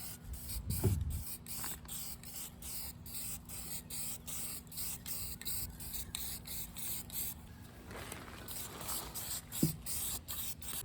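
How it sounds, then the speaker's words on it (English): Rust reformer hisses from a spray can onto the loader arms of a Bobcat 743 in a long, steady, close stream with a few short handling knocks and scrapes. "Just throwing some rust reformer on here."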